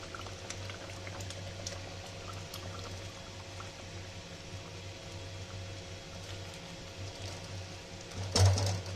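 Steady bubbling and hissing of tomato sauce simmering and spattering in a pan, with a low hum underneath and a brief clatter near the end.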